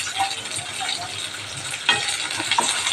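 Sliced shallots and green chillies fry in hot oil, a close, steady sizzle with a few stirring scrapes and clinks toward the end.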